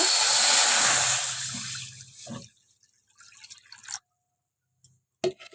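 Water splashes and pours loudly into a pot of washed cauliflower and potatoes, easing off into softer trickles and drips, with a couple of sharp clinks near the end.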